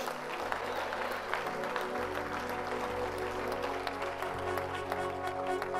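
A church congregation bursts into sustained, dense applause and cheering during a service, with a steady low musical drone and organ-like tones underneath throughout.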